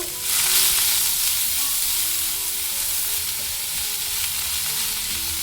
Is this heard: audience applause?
no